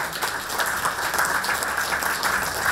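Sustained, dense applause from a crowd in a courthouse hall at a court chairman's honorary retirement ceremony, loud and even throughout with no talking.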